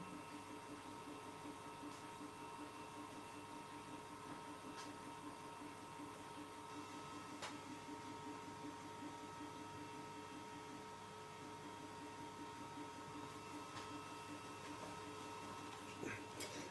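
A WeCreat laser engraver working an image onto canvas gives a steady mechanical whir with a fast repeating pulse and faint occasional ticks, quiet and continuous throughout.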